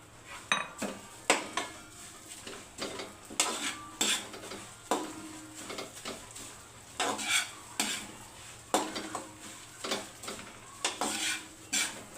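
Flattened rice (poha) fries in hot oil in a pan, with steady stirring scrapes and clinks of a metal spoon repeating in an irregular rhythm over a soft background sizzle, close and moderately loud.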